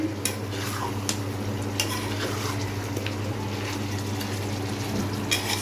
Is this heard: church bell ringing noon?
no